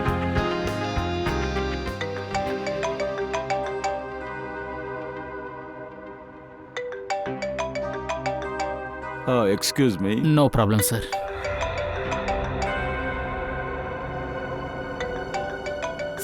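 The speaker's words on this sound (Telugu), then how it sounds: "సార్ ఫోన్ ఎత్తండి." A mobile phone ringtone plays a repeating electronic melody at moderate volume while a short spoken exchange happens over it.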